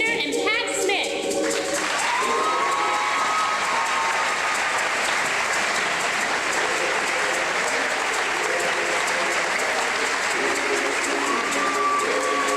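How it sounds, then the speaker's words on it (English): Sustained applause from a chorus show audience honoring the show chairs, loud and continuous throughout, with a few whistles and voices mixed into the clapping. "Let's have a special round of applause for our show chairs, Mary Kriener and Pat Smith."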